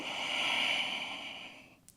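A long, steady exhale through the nose or mouth during a vinyasa yoga flow, breathy and close, fading out toward the end with a small catch.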